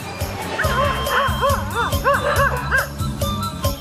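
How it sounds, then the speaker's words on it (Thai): House dog barking at visitors entering a home in rural Nakhon Nayok, Thailand, a series of close, loud yappy barks and whines in quick succession over a steady low background. "นี่ขนาดเดินเข้าบ้านมาหมายังเห่าเลยนะครับ"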